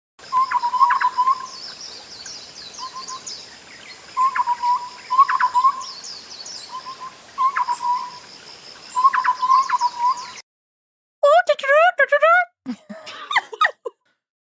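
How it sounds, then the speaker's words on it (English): A bird sings in clear, repeated short whistled phrases with an echo-like doubling, pausing between bursts, then a different rising and falling run of quick chirps near the end. "let's listen to this fucking bird"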